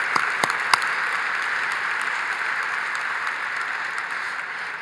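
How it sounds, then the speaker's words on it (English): A summit audience delivers a round of applause for two business presenters, even continuous clapping from a seated crowd, moderately distant and gradually thinning toward the end, with no voices. "if we could also get another round of applause for Daniel and Stephanie for both of their businesses."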